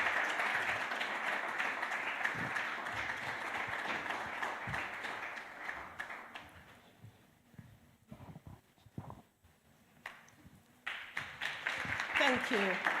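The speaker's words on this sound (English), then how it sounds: "Please don't stop clapping until they get up stage." An audience at a career and entrepreneurship summit in the UK claps as panelists take the stage; the applause is moderately loud at first, then thins and fades as scattered sounds and a voice take over.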